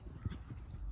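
A horse canters in a riding lesson, its hoofbeats a quick, muffled, rhythmic thudding in a very short burst at moderate distance.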